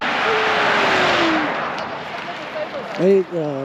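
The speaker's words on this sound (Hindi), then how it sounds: "महिंद्रा का कोई गाड़ी का टेस्टिंग हो रहा है शायद।" A Mahindra vehicle on a test drive rushes past with a loud swelling whoosh that fades, followed by a voice speaking briefly near the end.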